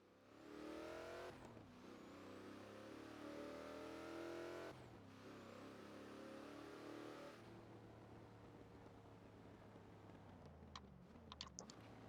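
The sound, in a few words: car engine sounds from Forza Horizon 4 video game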